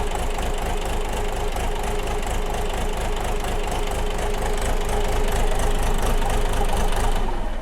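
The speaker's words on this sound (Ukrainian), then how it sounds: "абсолютно звичайна нормальна робота двигуна дизельного трьохциліндрового, жодного лишнього шуму, рівна робота" A three-cylinder diesel engine on a new KENTAVR 244 mini tractor idles steadily and evenly, a continuous low rumble with a fast regular knock, close by with no talking.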